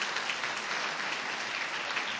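An audience at an awards luncheon claps in sustained, dense applause, steady and even throughout, with no voices over it.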